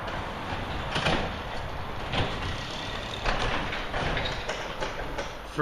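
A large garage door with five 3-inch struts slides up, a steady rumbling roll with a few rattling clanks, continuous for several seconds and fairly close.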